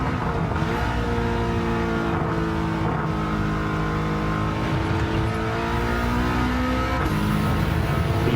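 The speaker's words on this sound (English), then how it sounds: "The turbo pickup is insane." A turbocharged Subaru in Gran Turismo 7 accelerates hard, its engine droning loud and steady with rising gear pitch and brief shifts, constant and close throughout with no speech over it.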